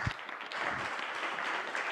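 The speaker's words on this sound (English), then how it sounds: "Please give all of our panelists a big and warm round of applause." Steady applause from a crowd at a panel event in Tokyo fills the whole stretch, a dense even wash of clapping heard from a distance.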